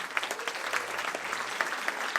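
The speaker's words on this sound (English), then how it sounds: "Et je voudrais qu'on l'applaudisse." An audience claps at a classic film screening at Cannes, honouring a cinematographer with a brisk, even patter of many hands and a few sharper individual claps standing out.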